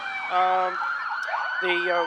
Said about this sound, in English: one of the new Chevrolet Tahoe police cars